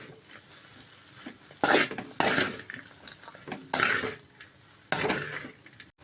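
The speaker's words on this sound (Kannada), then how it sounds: "ಅನ್ನ ಸೇರಿಸಿ ಮಿಕ್ಸ್ ಮಾಡ್ಕೊಳ್ತಾ ಇದ್ದೀನಿ." Cooked rice being stirred into fried carrot masala in a pan, with repeated scraping and clattering spoon strokes against the metal and a soft sizzle underneath, no talking.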